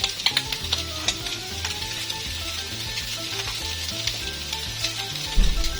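Chicken pieces sizzle and crackle as they are stirred in a hot pan, a steady close frying hiss with scraping stirs and small pops running throughout, no talking.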